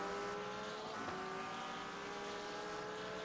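Ford Mustang GT3 race car engine in the iRacing game at Motegi, a steady, loud, sustained drone with a slight pitch shift, heard alone with no talk.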